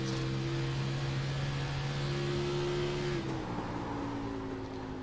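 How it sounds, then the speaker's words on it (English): An Xfinity-series stock car in a racing video game drones loudly and steadily under braking, its engine tone dropping in pitch partway through as it slows, with no talk. "you can hear the car sliding around a little bit"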